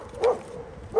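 A puppy dog near a riverside cooking camp gives two short, yippy barks, one early and one at the very end, close by, with quiet background between them.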